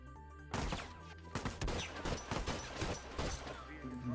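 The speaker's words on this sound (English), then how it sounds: "Managed to get those shots off" Several gunshots ring out from The Last of Us during a competitive World Cup final match, sharp cracks spaced in an uneven burst over continuous game music and background ambience, with a commentator talking throughout.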